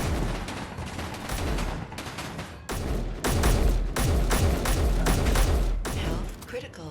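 Heavy turret gunfire in the space survival game Space Engineers, a loud, dense barrage of rapid shots and booming impacts that keeps going almost without a break, with voices talking over it.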